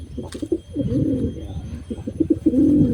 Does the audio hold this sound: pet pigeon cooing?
yes